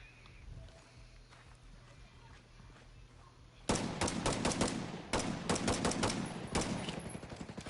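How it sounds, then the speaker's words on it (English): Suppressive gunfire in a military shooter game, a sudden loud stretch of dense rapid shots and bursts after a quieter start with a voice speaking. "Throwing suppressive fire."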